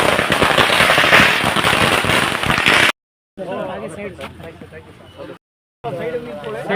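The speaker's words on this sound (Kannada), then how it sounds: "ಅದ್ಧೂರಿಯಾಗಿ ಪಟಾಕಿ ಸಿಡಿಸುವ ಮೂಲಕ ಬರಮಾಡಿಕೊಳ್ಳಲಾಯಿತು" Dense crackling bursts of firecrackers going off loudly in rapid succession to welcome a visiting figure, followed by brief gaps and people talking.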